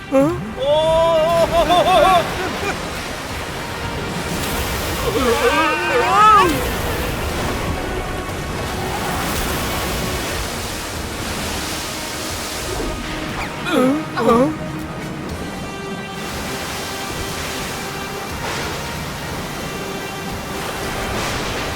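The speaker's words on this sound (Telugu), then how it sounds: "ఇప్పుడేంటంటే వర్షం కురుస్తోంది" Rain falls steadily in an animated movie scene, a loud continuous hiss that runs throughout while cartoon voices speak over it.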